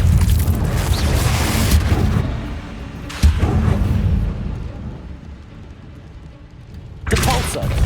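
Confringo fire spell blasts in the Hogwarts Legacy game, two or three booming explosions with rumbling tails, loud and close, while a voice speaks over the action.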